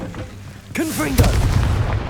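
A Confringo fire spell bursts in Hogwarts Legacy, a booming blast with whooshing magical swirls, following a quick shout and continuing into a rumbling explosion.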